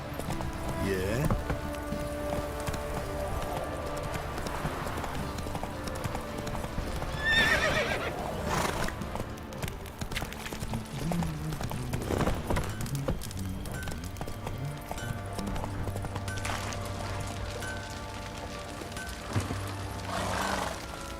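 Roach the horse from The Witcher 3 whinnies loudly and clip-clops at a gallop, hoofbeats steady and close over a bed of in-game music and ambience, with a voice speaking at times.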